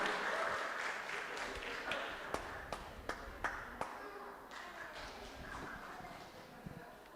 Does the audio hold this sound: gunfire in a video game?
no